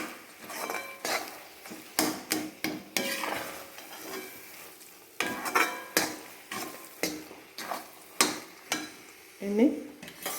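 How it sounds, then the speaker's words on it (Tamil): Spoon scraping and stirring spice powders through country chicken curry in a metal pot, with repeated close, irregular clanks and scrapes, no talk. "நல்லா கிளறி விட்டுக்கலாம்."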